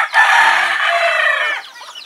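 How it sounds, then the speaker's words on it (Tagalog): A frizzle chicken, its feathers curling backward, crows loudly and close by for about a second and a half before trailing off, with no talk over it. "Ang kakaibang manok, baliktad yung dahon, yung balahibo."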